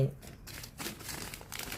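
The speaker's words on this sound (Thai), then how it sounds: "พี่สีก็จะใส่ลงไปในนี้ ในซองซิปนี้เลยนะ" A plastic zip-lock bag crinkles up close as dried organic vegetable seeds are packed into it, with bursts of rustling under someone speaking Thai.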